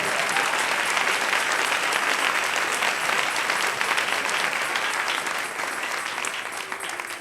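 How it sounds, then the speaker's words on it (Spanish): A church congregation applauding during a morning service, a dense steady wash of many hands clapping that holds strongly and then tapers slightly toward the end, with no talk over it. "Dele un aplauso al Señor en esta mañana."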